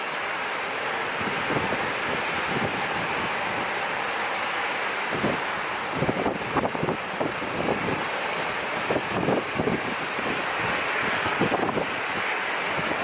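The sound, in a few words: airplane taking off at San Diego International Airport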